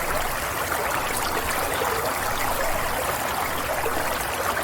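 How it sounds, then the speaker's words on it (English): Steady rush of a flowing stream, water babbling continuously and fairly close, with no voices. "What's that gentle sound? It's the stream. Let's listen to its soothing rhythm."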